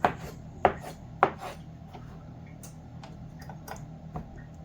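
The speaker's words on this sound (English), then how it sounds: "Just chop your dough up into smaller pieces." Bread dough being chopped into smaller pieces on a hard surface, three sharp, close chops at a steady pace, followed by faint light taps and handling sounds.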